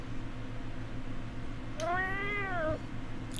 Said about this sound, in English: That sounds like a fake cat.